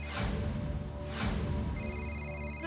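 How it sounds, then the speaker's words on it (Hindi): A telephone rings in a domestic comedy scene, two bursts of ringing heard over background music with no one answering. "अरे घंटी बज रही है, फोन क्यों नहीं उठा रहा है?"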